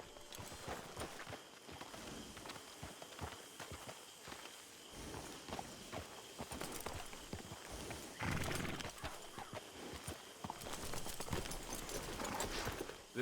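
A horse in Red Dead Online trots along with steady, close clip-clop hoofbeats, interrupted by a loud whinny midway, while faint game ambience sits underneath.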